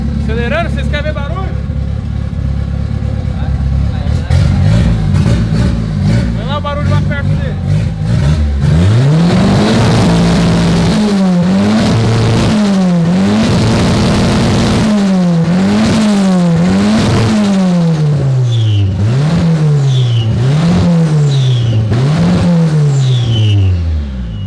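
A car engine revs repeatedly nearby, rising and falling in quick, loud bursts over a steady rumble.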